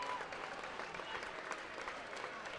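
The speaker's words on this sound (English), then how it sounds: "the orange-clad Advance fans are up and cheering and giving their team a well-deserved standing ovation" Orange-clad fans at a boys high school basketball sectional game give a standing ovation, with steady dense applause and crowd cheering heard from a distance, fairly faint.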